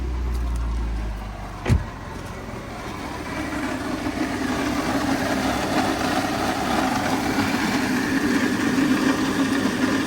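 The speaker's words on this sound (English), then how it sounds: "it just idled down, and the engine itself is smooth" A car engine idles steadily and smoothly after a brief knock at an auto auction lot, a low continuous hum close by with no talking.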